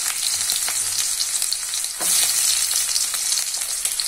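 Small onions tipped into hot oil over spluttered mustard seeds set off a loud, steady sizzle that swells briefly about halfway through, with faint stirring underneath and no talking.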